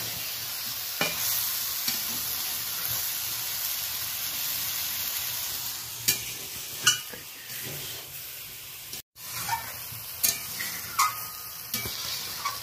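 Vegetables and tomato sautéing in a pan, a steady hissing sizzle with intermittent sharp scrapes and clinks of a spatula stirring, a brief gap partway, no talk.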